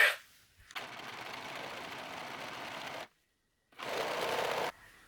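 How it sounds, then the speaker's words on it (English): A serger sewing machine whirs steadily as it serges the edge of old bed-sheet fabric, running in two bursts separated by a short silent pause, close and moderately quiet, with no talking. "I'll go serge it, and then these corners just come off in the serge"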